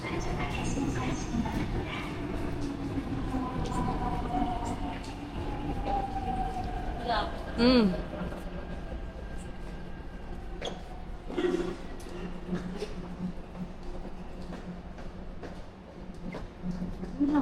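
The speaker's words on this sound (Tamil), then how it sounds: "ட்ரெயின் வந்துருச்சு." A train rumbles in with a rising metallic screech and squeal of brakes, under a busy platform crowd of voices on Jeju Island, South Korea.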